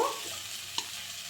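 Ground spice paste fries in oil for a homestyle rohu fish curry. A brief, steady sizzle is heard close by, with a single sharp stir clink partway through and no talk.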